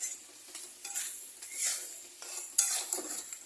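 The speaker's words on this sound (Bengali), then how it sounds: "গরম জল দিয়ে এটাকে একটু একটু করে নাড়বো" Chicken jhal curry stirred in a pot as hot water is added, with soft, irregular scraping and clinking of a spoon against the pan over a faint sizzle, fairly quiet and close, without speech.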